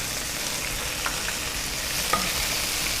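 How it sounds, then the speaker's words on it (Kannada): Mint leaves fry in a pan with a steady, close broadband sizzle, a couple of faint stirring clicks near the middle and end, and no talking. "ಪುದೀನ ಸ್ವಲ್ಪ ಫ್ರೈ ಆಗಲಿ"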